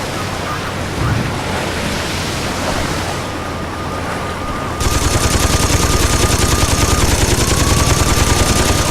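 Mounted machine gun firing in Saints Row 2 during a boat escape, a loud continuous rapid rattle of shots over a wash of water and engine noise, with the fire starting partway through and sustaining to the end.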